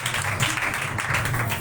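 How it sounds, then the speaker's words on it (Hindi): Loud, dense applause from an audience at a Pakistani Christian church service, a steady wash of many clapping hands filling the whole stretch without pause. "जोरदार तालियां बजाएंगे।"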